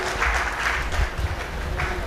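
Mushaira audience in Lucknow breaking into brief, dense applause, a continuous wash of many hands clapping close and loud, with faint voices mixed in.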